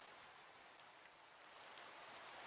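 Soft steady rain falling in Minecraft, a faint even hiss of patter throughout with no talk.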